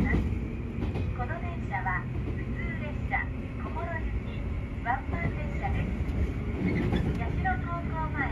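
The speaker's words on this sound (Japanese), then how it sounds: "そして列車は JR 線との境界駅かつ JR 信濃井線との分岐駅の信濃井を発車です。" Train pulling out of Shinonoi station, the boundary with JR lines and junction for the Shinonoi Line, heading onto the Shinano Railway; a steady low rumble of rolling wheels and motor whine runs throughout with brief higher squeals.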